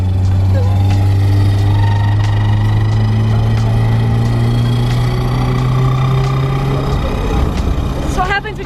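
Inside a car, a steady, loud engine hum with a droning tone that slides slowly upward while gears are worked, ending in a brief clunk and rattle.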